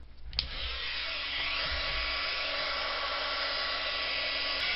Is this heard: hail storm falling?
no